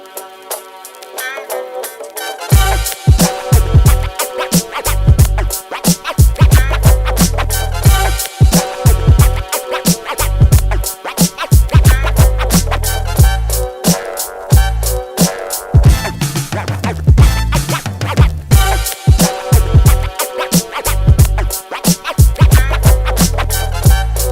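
A full MPC-sequenced beat loops steadily, punchy drums and bass driving under a dense, looping soul sample, loud and continuous after a brief quiet start.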